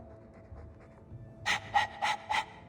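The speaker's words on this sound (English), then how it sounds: "All that noisy dog breath, day in, day out." Dog panting in Dragon Age 2: four loud, rhythmic breathy pants in quick succession, preceded by quieter background ambience.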